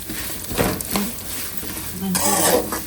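Turmeric powder stirred into hot oil in a pan while making mavinakayi chitranna, with a close spatula scraping and clinking against the metal over a steady sizzle.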